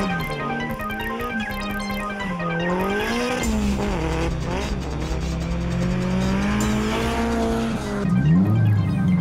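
Nissan S13 race car with a 2-litre engine making 316 kW at the wheels, its engine revving hard while tyres squeal and skid in long wavering howls, loud and close.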